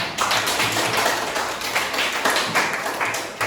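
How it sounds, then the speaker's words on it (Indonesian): Audience applause in a teacher training session: dense, steady clapping from many hands filling the whole stretch, fairly close and even in loudness, with no voices over it. "Oke, tepuk tangan untuk kita semua"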